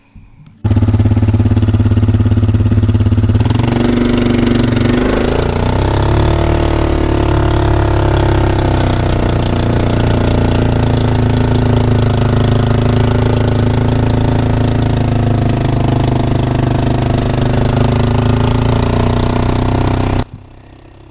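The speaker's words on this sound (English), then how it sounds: "So I'm on the bike here, the quad." A quad bike engine runs loud and steady while being ridden along a South Australian coastline, a continuous close drone with a shift in pitch early on, then cutting off at the end.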